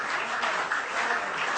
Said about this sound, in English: let's give a round of applause for everyone who submitted their videos